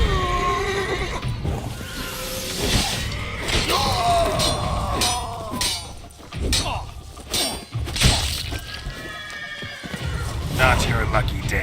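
Horses neigh and whinny in The Witcher 3: Blood and Wine, several calls rising and falling among hoof clatter, thuds and game effects, with voices talking over much of it.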